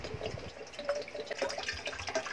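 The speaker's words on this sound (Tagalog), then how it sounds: "maglagay lang ako ng tubig dito sa ating kawali at pakuluin lang natin ito" Water poured into a frying pan (kawali) for boiling fish broth, a soft splashing trickle with small drips and bubbling, steady and close, with no voices.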